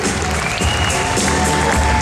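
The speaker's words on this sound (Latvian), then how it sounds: "Kors un aplausi vēlreiz jums pašiem" An audience at a beauty pageant claps loudly in a dense, sustained burst of applause with some cheering, filling the hall for the whole stretch, with a voice faintly mixed in.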